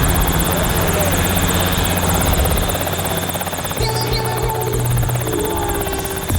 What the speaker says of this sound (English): it's the actual full-on helicopter with the Rotex 912 engine